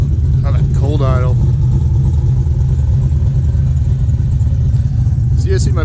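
A cold LS 5.3 V8 idles steadily and loudly close by, with a low, even rumble throughout; brief higher whines and tones rise over it near the start and end.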